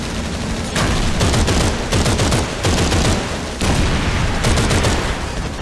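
Light machine gun in Call of Duty 3 firing loud, close sustained bursts of rapid shots, separated by short pauses.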